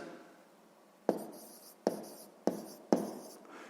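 Pen or pencil writing out a sixth-grade math solution on paper, quiet scratching strokes broken by four sharp taps or strokes, close and isolated with no talking.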